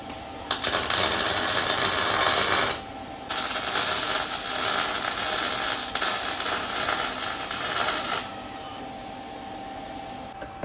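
A MIG welder tacks a tubular control arm onto a Mustang II crossmember, making close, loud crackling, sizzling bursts of a few seconds each with short pauses between them.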